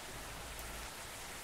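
Steady rain falling in the truck-driving video game Bus Simulator Indonesia, a dense continuous hiss of drops, fairly loud and alone with no voices.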